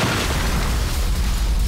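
A cartoon explosion booms loudly as a tanker of hot oil goes up, a dense rumbling blast that fills the whole short moment with no voices over it.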